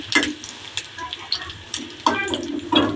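Curry leaves hit hot oil in a kadai with mustard seeds and urad dal for a garlic chutney tempering, giving sharp crackling sizzle bursts that flare and settle in close, uneven waves.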